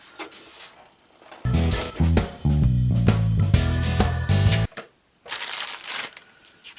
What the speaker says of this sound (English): I'm just going to fussy cut it out.